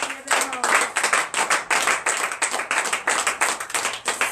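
A church congregation at a morning prayer service in Benin claps together in lively acclamation, a dense rhythmic burst of many hands close and loud, with voices mingled in.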